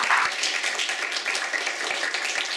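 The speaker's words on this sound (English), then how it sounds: "join me in giving our panelists a huge round of applause" A conference audience applauding panelists after a climate and health discussion, a brief burst of steady clapping throughout, fairly close and even.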